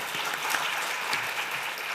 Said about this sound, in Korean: 우리 하나님께 영광의 박수 드리겠습니다.